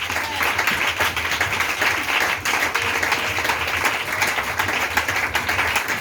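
A church congregation applauds with sustained, dense clapping that fills the room at an even, loud level throughout, with a faint murmur of voices underneath.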